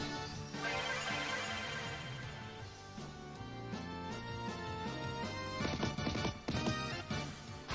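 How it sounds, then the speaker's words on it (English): Shimmering 32-bit era RPG sound effect from Final Fantasy over game music, a fire spell with sweeping bright tones and a burst of crackling bursts near the end, loud and continuous. "That's such a 32-bit RPG noise, I love it."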